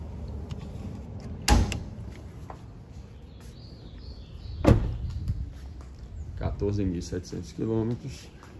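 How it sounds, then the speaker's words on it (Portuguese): A Toyota Corolla XEi 2018/2019 with about 14,700 km has its hood opened: two sharp clunks a few seconds apart, then a voice talking close by. "Eu vou tentar aqui abrir o capô desse carro"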